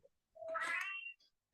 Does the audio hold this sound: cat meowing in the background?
yes